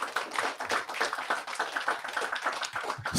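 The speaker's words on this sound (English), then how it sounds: "Y'all can start clapping for these sisters" A crowd at a Purim feast claps for a group of sisters, with irregular close hand claps forming a lively, uneven patter throughout and no clear talk on top.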